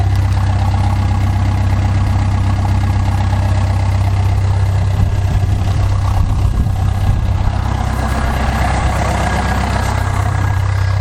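A smoky truck engine idles with its airbox disconnected, a loud, rough, steady low rumble with a pulsing beat that carries on unbroken and alone for the whole stretch.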